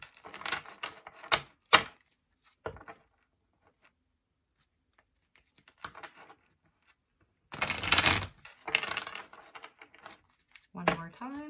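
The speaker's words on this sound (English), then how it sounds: "a nice shuffle" Tarot and oracle cards being shuffled, including an angel card deck, with brisk riffling bursts at close range separated by pauses and broken up by brief speech.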